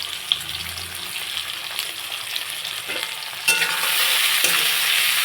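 Fish frying in a pan with salt and turmeric, stirred steadily, giving a continuous close sizzle with scraping stirs; the sizzle grows louder and brighter partway through.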